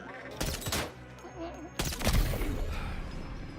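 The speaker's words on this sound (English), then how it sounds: "I'm taking down this entire base with just a sniper rifle" Sniper rifle fire in a video game base assault, two sharp loud reports about a second apart with ringing tails, the second heavier and followed by a lingering rumble of game ambience.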